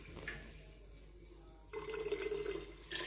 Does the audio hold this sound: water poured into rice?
yes